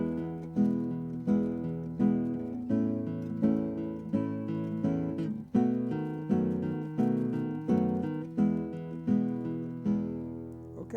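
An acoustic guitar plays a 1-4-5 chord progression using a pinch technique on the low strings on beats 1 and 3, each plucked chord ringing and decaying in an even rhythm, close and without talking.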